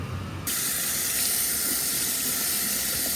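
Running water from a tap rinses a laser-cleaned part, a steady broadband hiss that begins abruptly after a brief quieter moment and holds loud and even to the end, with no talk.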